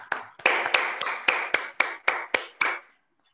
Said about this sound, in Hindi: नए साथियों के लिए एक जोरदार ताली हो जाए।